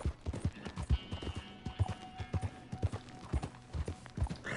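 Horse hooves clip-clopping in Red Dead Redemption 2, a steady stream of distinct hoofbeats at walking pace, close and fairly loud, over a faint game music bed with no talk.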